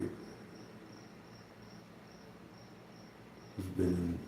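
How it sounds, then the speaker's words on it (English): A single cricket chirps in steady, evenly spaced pulses in a quiet room, faint and alone, before a brief rustle at the end. "Hear the cricket."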